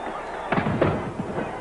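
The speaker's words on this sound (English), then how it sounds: "And the cannon that always goes off when the Chargers score goes off here in San Diego." A cannon fires at a San Diego football stadium after the Chargers score in 1971, giving a couple of heavy booming thumps that stand out from a steady wash of crowd roar.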